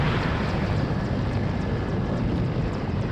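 Military aircraft in the Warno strategy game, a continuous droning engine roar that holds steady and fills the short stretch without any voices.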